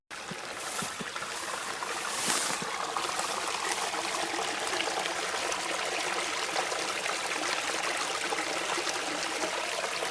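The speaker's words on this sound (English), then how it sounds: "I'm at my third stream crossing right now, if you can call it a stream" Small woodland stream trickling across a trail, a steady, close, continuous wash of running water with no voices.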